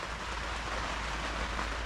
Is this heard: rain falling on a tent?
yes